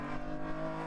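Jaguar E-Type race car climbing through Coppice Corner at Donington Park, a sustained engine drone heard at a distance, steady and moderately loud, with no voices.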